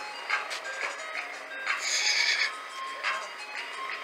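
An ice cream truck plays its jingle, a melodic tune that carries steadily through the clip at moderate distance, with people chatting underneath.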